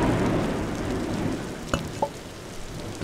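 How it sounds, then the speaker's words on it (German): Steady rain in the video game Block Story hisses over a low rumble, with a couple of sharp little taps near the end. "Es regnet."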